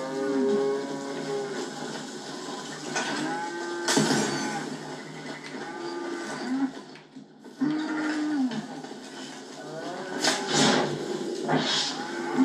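Cows mooing in the Red Dead Redemption 2 video game, several drawn-out low moos in sequence with a few brief noisy bursts between them, moderately close and without talk.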